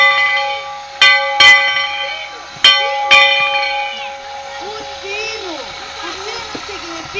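Maria Fumaça steam train bell ringing on arrival at a station, four sharp metallic clangs in two pairs over the first few seconds, ringing tones decaying under a sustained hum, with children's voices chattering afterward.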